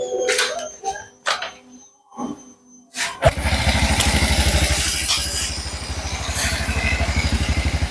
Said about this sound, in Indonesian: tak hidupin motornya